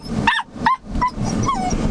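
Unhappy Cane Corso puppy shut alone in a car boot, giving a few sharp high barks and yips that slide into whimpers, close and fairly loud, with no talk.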